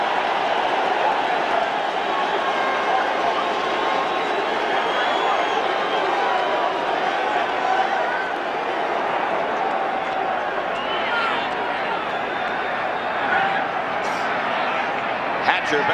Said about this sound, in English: Listen to the applause for the Bear defense.